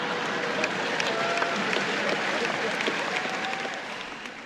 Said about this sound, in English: Oh, it's more applause.